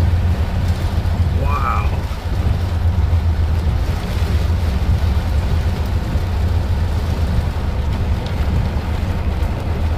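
A manifest freight train rolls past in heavy rain at Leetsdale, PA, its low steady rumble blending with the constant rain hiss, while one person briefly exclaims early on.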